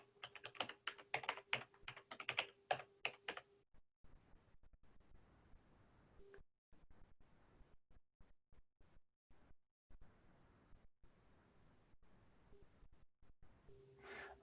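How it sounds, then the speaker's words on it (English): Computer keyboard keys tapped close by in a quick burst of clicks, followed by sparser, fainter keystrokes and quiet breathing in an otherwise still room. "I'm going to type in my password."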